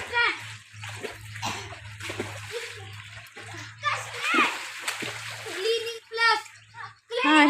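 Children jumping and splashing into the water of a well, several loud splashes and sloshes mixed with children's excited voices and shouting close by.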